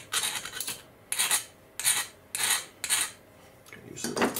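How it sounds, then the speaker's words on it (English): A small hand file rasping metal on a model train crane kit bogie part, six short bursts of scraping strokes with brief quiet gaps between them. "I'm just going to clean it up with a file."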